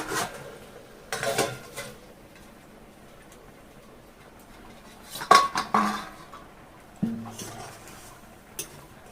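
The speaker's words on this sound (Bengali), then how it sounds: "এবার আমি ঢাকাটা খুলে নেব।" A lid comes off a cooking pot of vegetarian taro root curry, with a few separate metallic clanks and clatters spread across a quiet kitchen background and no talking.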